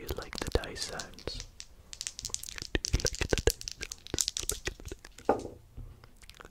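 Dice rattle and clatter in short bursts during a Shut the Box game, a close, crisp series of clicks and knocks with soft whispering in between.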